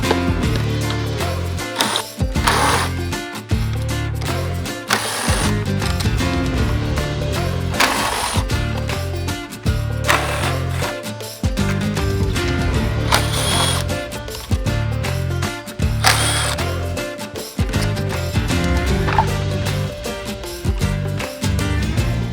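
Mechanical whirring and ratcheting bursts from a tool loosening 10mm bolts on a third-generation 2022 Toyota Tundra's shutter assembly, loud and close, repeating in short runs separated by brief pauses.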